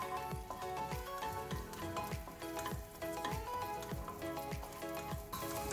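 Chopped garlic sizzles in hot oil in a pan, a steady crackling fry broken by regular scraping strokes of a spoon stirring, close and continuous.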